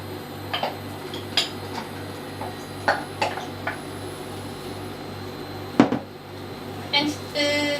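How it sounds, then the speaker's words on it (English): Red cabbage and snap peas stir-frying in a pan, with a steady low sizzle beneath scattered clinks and taps of a utensil against the pan. "we will start frying the red cabbage with the snap pea"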